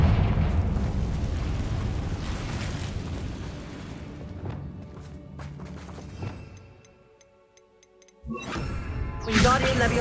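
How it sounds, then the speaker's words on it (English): A Confringo fire spell in the Hogwarts Legacy video game bursts with a loud, rumbling explosion, followed by ticking and crackling effects that fade into near silence before another rush of game sound. "Confringo."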